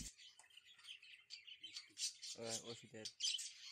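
Zebra finches kept in a cage chirp in a steady stream of small, bright, close calls, with a few brief buzzy notes and some faint background voice mixed in.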